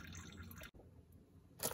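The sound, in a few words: oil dripping when removing Toyota RAV4 oil filter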